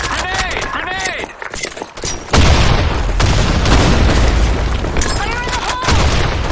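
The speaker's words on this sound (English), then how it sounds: "Grenade!" Grenade explosion in a desert shooter game map, a heavy boom midway that leaves a dense rumbling roar, preceded and followed by scattered gunfire and shouted voices.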